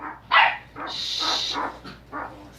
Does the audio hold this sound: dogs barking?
yes